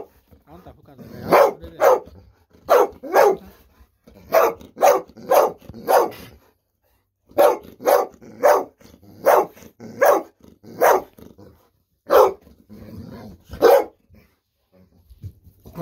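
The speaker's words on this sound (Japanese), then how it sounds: "ワンワン言わんと喋りなさい。" A golden retriever barks repeatedly in short, loud bursts close by, grouped in quick runs of two or three with brief pauses between.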